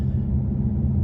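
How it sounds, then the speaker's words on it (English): Exhaust of a 2023 Hyundai Elantra N, a steady deep low rumble held close and loud for about a second, with no voices. "Especially when you open up that exhaust,"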